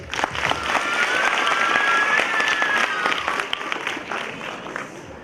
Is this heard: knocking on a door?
no